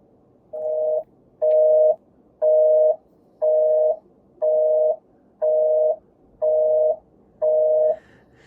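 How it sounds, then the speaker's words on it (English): Landline telephone busy signal: eight evenly spaced, loud tone pulses in a steady on-off rhythm with clean silence between, and no talking. "I recognize there's an entire large percentage of the Morning Newsbeat audience that has never, even ever, heard a busy signal."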